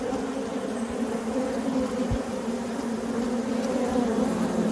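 Agitated honeybees at an opened hive in an Australian bee yard make a steady, dense buzzing drone that holds close and even throughout, with no talking.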